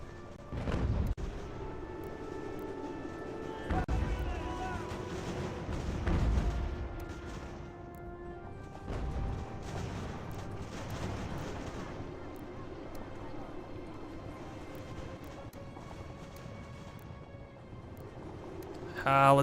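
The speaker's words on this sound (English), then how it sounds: "Target the center of the mass, always with mortars." Mortar and artillery fire in Ultimate General: American Revolution, with several deep booms at irregular intervals over continuous battlefield rumble and game music, and a voice talking over it.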